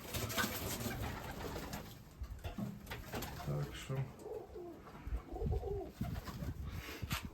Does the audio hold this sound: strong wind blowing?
no